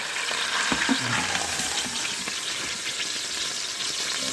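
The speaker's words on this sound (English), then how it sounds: "I'm going to brown this probably about 5 minutes per side" A London broil beef roast browns in an Instant Pot with a loud, dense, continuous sizzle. A few knocks and clatters come near the start, and no voice is heard.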